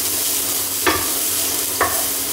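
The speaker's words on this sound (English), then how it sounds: "fry the garlic a bit" Garlic sizzles steadily in hot olive oil in a pan, a constant bright frying hiss with two brief scraping stirs, close and loud, no voices.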